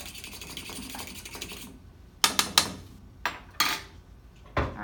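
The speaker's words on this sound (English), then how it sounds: "Whisk it until you don't see the difference between the milk and the egg." A fork whisks eggs and milk together in a bowl, making a quick continuous scraping rattle that stops, then gives way to several separate sharp clinks and strokes against the bowl.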